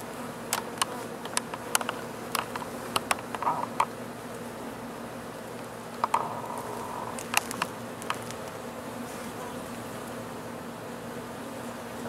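Honey bees buzz steadily around an open hive during a summer inspection, a close, sustained drone broken by scattered sharp ticks and knocks of hive equipment.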